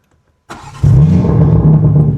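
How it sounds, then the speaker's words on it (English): After a brief whir of the starter, a faulty BMW M3's engine catches and settles into a loud, steady idle close by. "So here we go. Engine to start."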